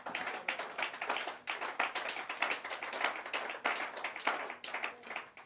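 Church congregation applauding, dense rhythmic clapping from many hands that swells and dips in waves, with some cheering voices mixed in.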